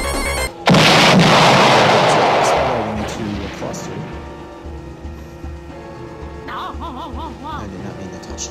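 A bomb blast in the Roblox racing game Super Roblox Kart, a loud, sudden booming burst that rumbles for a couple of seconds before fading under game music and sound effects.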